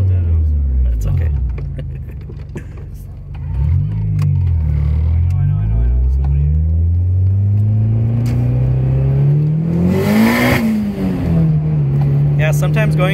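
A Honda Prelude engine heard from inside the car at night, revving up, dropping briefly for a slightly imperfect shift into second gear, then pulling again with a rising tone, loud and close.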